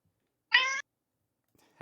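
A cat meows once, short and fairly loud, close by in a quiet room, then gives a brief second chirp about a second later.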